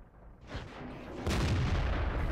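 In-game World of Tanks impact as an IS-6 shell strikes the player's AMX 13 90 on the Fjords map: a soft rumble builds, then a loud, sudden boom-like crack lands and lingers as a sustained roar.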